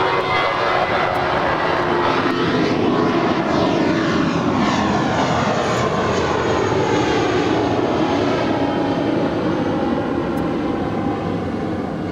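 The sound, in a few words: airplane at Los Angeles LAX airport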